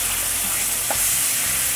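Sofrito vegetables frying in a light-brown flour roux over medium-high heat, a steady close sizzle and hiss with one brief stir or splash partway through and no voices.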